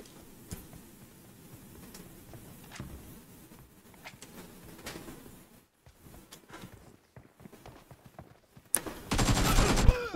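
Gunfire in the mobile version of GTA 5: scattered sharp game shots and clicks over quiet background, ending in a loud, rapid burst of automatic fire.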